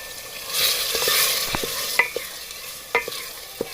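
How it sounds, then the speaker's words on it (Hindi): Chopped tomatoes go into a pan of softened, translucent onions, giving a soft sizzle of frying with several scraping stirs and light clinks of a spoon against the pan, close and fairly quiet. "टमाटर डालेंगे इसके अंदर।"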